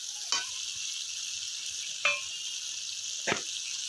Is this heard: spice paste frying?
yes